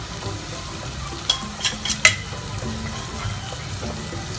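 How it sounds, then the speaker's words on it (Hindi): Onion frying in a pan with powdered spices such as turmeric, chili powder, coriander powder, garam masala and salt gives a steady sizzle, and a few stirring clicks and scrapes come in the middle. "डाल के थोड़ा सा प्याज के साथ अपने मसालों को पकाएंगे"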